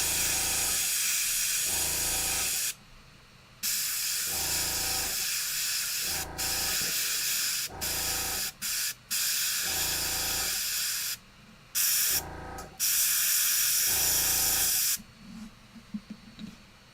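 An airbrush sprays paint on a Warhammer 40k Kill Team miniature, giving sharp bursts of airy hiss that start and stop in an irregular rhythm, with short silent gaps between passes, close by.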